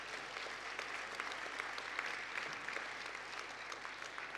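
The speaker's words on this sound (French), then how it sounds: "oui, il mérite d'être applaudi" Steady audience applause at a mayor's New Year greetings ceremony, a dense even patter of many hands sustained throughout, moderately distant and fairly quiet, with no voices over it.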